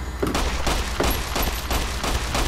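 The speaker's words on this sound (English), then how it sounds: "there's someone right behind me trying to shoot me" Enemy gunfire in Fallout: New Vegas rattles out in loud, close bursts, a dense fusillade of repeated shots with brief gaps between volleys.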